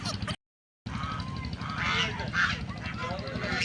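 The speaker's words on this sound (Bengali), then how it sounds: "অনেক হাঁস উঠছে দেখেন, রাজহাঁস সব বিক্রির জন্য।" Geese crowded for sale at a poultry market honk in repeated, overlapping calls close by, mixed with general market din, voices and a short dropout near the start.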